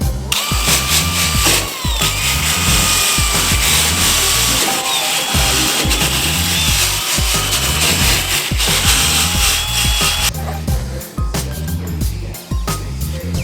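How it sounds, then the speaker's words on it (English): Hand scuffing and roughening of a surface to prepare it for adhesive, a steady close scraping and rubbing with repeated rhythmic strokes, loud and continuous with a brief pause partway through. "kind of scuff it up"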